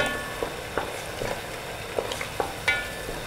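Spices including lemongrass, galangal, bay leaves, ground turmeric and ground coriander sizzle softly in a pan while a utensil stirs them, giving irregular scraping clicks over a steady low fry, close by with no talking.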